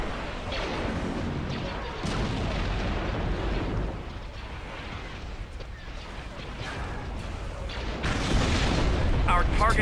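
Explosions rumble from a space station under attack in Star Wars Empire at War, a dense, continuous roar of booming blasts and crashing debris that swells louder toward the end, with voices talking over it.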